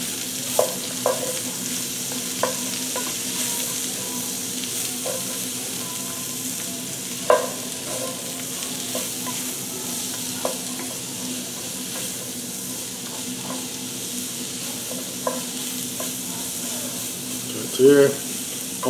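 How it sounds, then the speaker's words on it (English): Onion and sausage frying in a pan for Cajun cornbread dressing, a steady sizzle running throughout with occasional utensil clicks and stirs, and a brief louder scrape near the end. "Get that onion cooking there with that sausage."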